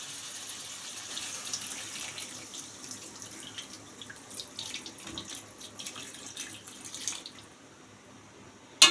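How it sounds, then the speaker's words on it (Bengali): Water poured into a pot of curry with cooked spices, boiled potatoes and separated oil, a steady broad splashing rush running nearly throughout, moderately loud and close, with a sharp knock at the very end. "এবার আমি এতে জল দিয়ে দেব পরিমাণ মতন।"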